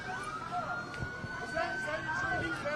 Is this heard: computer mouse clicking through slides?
no